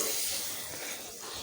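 Frying duck meat sizzling and hissing steadily as water is poured into the pan, a continuous bright close hiss without a break.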